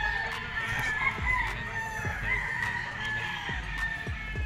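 A Sweater Gilmore three-way cross gamefowl rooster crows at a gamefarm in Bulacan, its call sitting over a dense backdrop of other birds clucking and crowing at varying distances, with intermittent low thumps.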